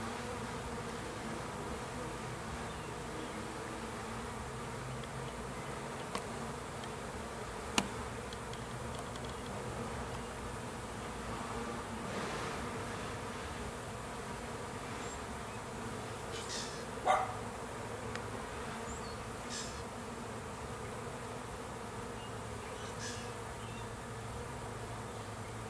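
A swarm of honeybees buzzes around an open hive in a village street, a steady close drone filling the air throughout with a couple of sharp knocks and a dog's bark mixed in.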